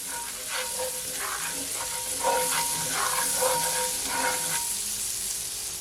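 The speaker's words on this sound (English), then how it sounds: "I'm gonna add my onion, my finely chopped onion, like so. Just gonna allow it to saute for at least 15 seconds." Finely chopped onion sizzles in melted butter in a pan for garlic butter shrimp, making a steady, close frying hiss with small crackles and bursts of stirring throughout, and no speech.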